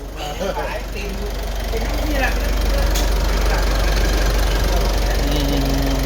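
A car engine turns over and settles into a steady, loud idle close by, its running drone continuing with a faint knocking under brief background voices.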